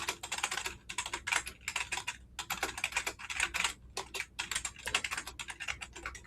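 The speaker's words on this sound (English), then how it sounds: "I hear some furious typing" Furious, rapid typing on a computer keyboard at a Scrabble tournament: dense bursts of sharp key clicks with short pauses, close and loud, with no voices.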